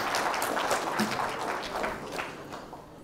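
An audience at a lecture event breaks into sustained applause, with dense clapping that stays steady throughout and then begins to thin toward the end.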